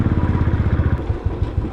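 A motorcycle is ridden along a mountain road route from Methlang toward Lakeside, its engine a close, rapid chugging pulse with some clatter, heard alone.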